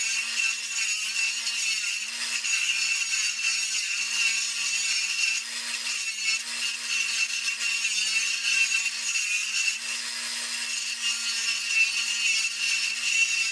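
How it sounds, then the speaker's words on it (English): Abrasive grinding and wire brushing on a steel part for a dirt bike E-track wheel chock, a steady harsh scraping hiss that runs continuously and fairly loud at close range, with slight rhythmic surges. "take this over to the grinder, round the edges a little bit, wire brush the face of it"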